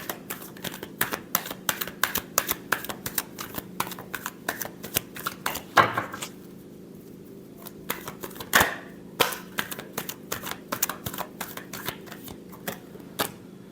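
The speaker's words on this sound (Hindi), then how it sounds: "Last shuffle." Quick, crisp riffle shuffling of tarot cards, close and fairly quiet, with rapid clicks in bursts, brief pauses between shuffles, and a few louder snaps.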